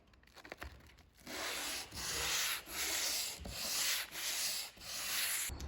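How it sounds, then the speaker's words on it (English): A 120 grit sandpaper block is rubbed by hand along a grooved plywood panel for a van wall, giving several long, even rasping strokes with brief pauses between them, close and clear. "I'm going to take a bit of sandpaper. This is 120 grit."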